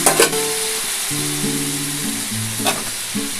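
Tomato and spiced water fry in a pan for a soybean and potato curry with green chillies, giving a steady close sizzle while tonal notes play over it.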